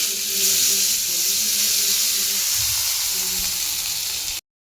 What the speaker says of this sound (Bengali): এখানে তেল হয়ে গেছে গরম, আলু ভাজাটা দিয়ে দিই